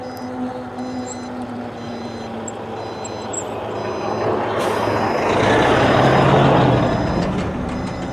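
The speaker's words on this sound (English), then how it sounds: "I'll let that truck just go" A truck rumbles close by on a road near a factory, growing louder as it passes, with intermittent beeps and an air-brake hiss, heard alone without talk.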